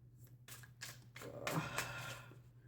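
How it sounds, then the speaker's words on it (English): Tarot cards are shuffled by hand in a few quick, soft riffling bursts, close but faint, with a low steady hum underneath and no talking. "I like shuffling them in front of you"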